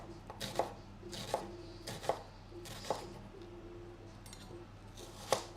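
A knife chops onions on a cutting board for French onion soup, with spaced single cuts landing roughly every second, quiet and close, with faint background hum.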